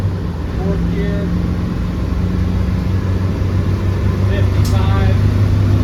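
A 1996 Land Rover Defender 110 with the 300Tdi diesel drives steadily in fourth gear near 50 mph, its low engine drone and road rumble heard from inside the cab.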